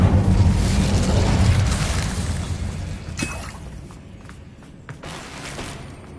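A fire spell cast in the fantasy game Hogwarts Legacy, heard as a loud whooshing burst that fades over several seconds into softer crackles and a few faint pops, with no talking.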